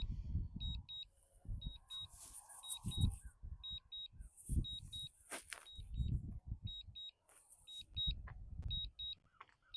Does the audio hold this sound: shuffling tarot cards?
no